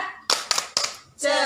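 Preschool children at a PAUD class clap a rhythmic chant, with several sharp, close hand claps in a loose beat and young voices chanting between and after them.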